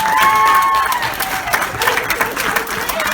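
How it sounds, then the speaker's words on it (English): Audience applause at a hypnotist show, steady and fairly loud throughout, with crowd noise and a few cheers mixed in alongside a sustained tonal sound early on. "Big round of applause for all of them."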